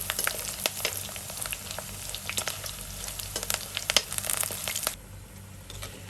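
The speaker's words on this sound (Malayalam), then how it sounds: "നമുക്ക് ബാക്കിയെല്ലാ ഇഞ്ചികളും ഇതുപോലെ തന്നെ ഒന്ന് വറുത്തെടുക്കാം" Ginger, some with curry leaves, fries in hot oil with a dense, crackling sizzle and sharp pops and stirring scrapes, loud and close, easing off near the end.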